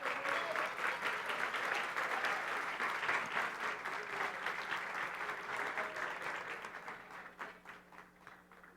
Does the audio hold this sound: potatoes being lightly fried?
no